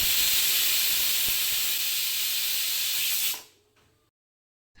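A pressure cooker loaded with green pigeon peas vents steam in a loud, continuous hiss for about three seconds, then falls quiet, with no talking.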